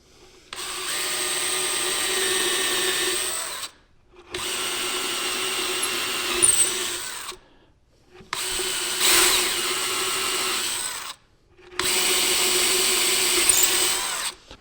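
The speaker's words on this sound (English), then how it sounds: "Okay, there's our holes, perfectly centered." A power drill bores handle holes through a wooden drawer face, four sustained whining runs of about three seconds each, separated by short silent gaps, close and loud.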